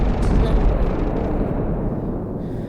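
Planet-destroying explosion in the video game Solar Smash, a dense, continuous low rumbling roar that stays loud and steady, with no separate impacts.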